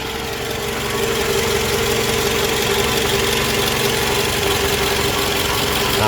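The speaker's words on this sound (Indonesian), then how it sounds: "Kalian bisa dengar dengan seksama dia punya bunyi mesin atau suara mesin." A used car's engine idles steadily and evenly, a continuous close mechanical rumble with a faint ticking texture and no rise or fall, with no talking over it.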